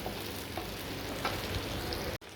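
Ginger fries in oil with a constant, dense crackling sizzle, close and steady throughout, with faint scrapes and a brief dropout at the very end.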